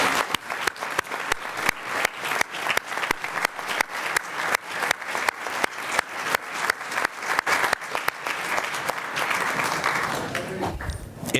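An audience at a scholars' recognition evening claps for the parents standing up, a dense, steady burst of applause that carries evenly across the hall and thins out near the end.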